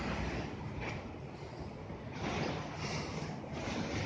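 Steady broad roar of a turbojet ferry's engine and rushing water at sea near Hong Kong, with wind buffeting the microphone; no voices.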